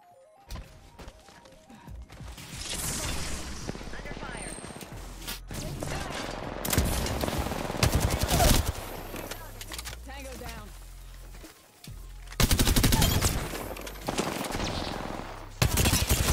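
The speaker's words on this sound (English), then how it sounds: "Charge rifle." Charge rifle gunfire in the video game Apex Legends, in an Arena match: repeated heavy shots and thuds packed into a busy game mix, with a player talking over much of it.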